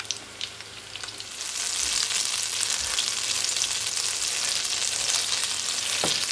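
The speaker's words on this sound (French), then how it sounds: "On va maintenant faire sauter les potimarrons." Red kuri squash (potimarron) pieces, blanched first, sauté in a hot pan, giving a steady, close hiss of frying that swells after the first second and holds evenly, with an occasional faint clink of a utensil and no talking.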